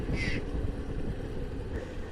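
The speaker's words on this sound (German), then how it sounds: "So ein Geschrei von Vögeln" Birds screech briefly beside a gravel road, a short harsh cry near the start and a fainter one later, above a steady low rumble of a motorcycle engine.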